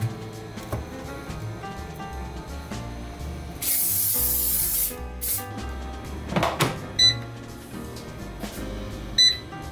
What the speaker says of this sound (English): I spray a little oil.